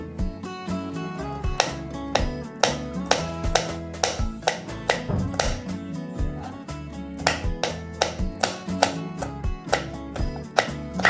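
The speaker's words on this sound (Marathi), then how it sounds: "आता आपण मिरची कापून घेऊया" Green chilies for a beetroot salad are chopped with a knife on a board in a fast, even run of crisp taps, close up and loud, with no talking.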